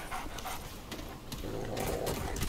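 A dog pants in the video game Remnant, quick rhythmic breaths close and fairly loud, blended with game ambience and no talking.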